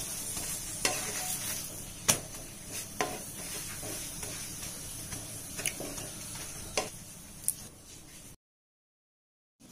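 A beetroot paratha fries in refined oil while being pressed and turned, a steady close sizzle broken by sharp ticks and taps of the utensil, ending in sudden silence.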